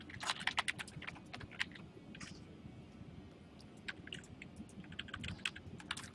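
Quick runs of keystrokes on a computer keyboard, close and fairly quiet, tapping in irregular bursts with brief pauses between them.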